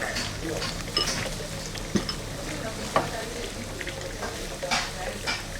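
Cardamom, cloves and fresh cinnamon sizzle in hot oil in a pan, a steady frying hiss broken by a few sharp knocks and stirring scrapes, close and fairly loud, with no talk.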